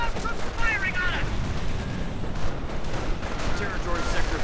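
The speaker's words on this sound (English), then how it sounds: "And the mortar keeps on firing." Repeated booming mortar fire in a real-time strategy battle, dense low rumbling blasts mixed with gunfire under a commentator's voice.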